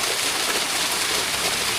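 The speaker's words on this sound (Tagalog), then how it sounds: "Ang lakas ng tubig." Strong mountain-fed water rushing through a canal in Sorsogon, a loud, steady broadband roar with no pauses, close by and uninterrupted by voices.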